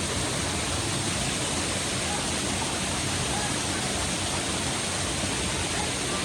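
Lihonjar Waterfall in Karbi Anglong roars as a steady, dense rush of falling water close by, filling the whole clip with a constant broadband wash and no pauses.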